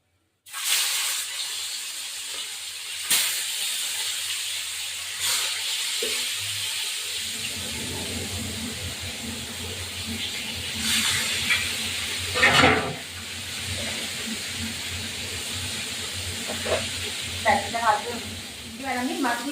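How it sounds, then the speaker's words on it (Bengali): Katla fish pieces frying in hot oil in a pan, a steady loud sizzle and hiss that swells after fresh pieces go in, with occasional clatter of a spatula or utensil. "আর কটা মাছ দিয়ে দেবো এখন।"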